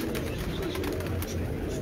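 Pigeons coo softly beneath a dense, constant wash of background noise, their low murmurs close but partly masked.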